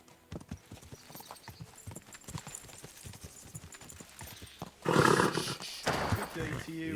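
Horse hooves clip-clop steadily in Kingdom Come Deliverance II, a rhythmic run of close, distinct strikes that gives way to a louder, denser burst of hoofbeats and movement near the end.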